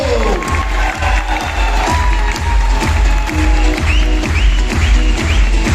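Large indoor audience at a motivational seminar bursts into loud, sustained applause with cheering and shouts, dense rhythmic clapping filling the room throughout.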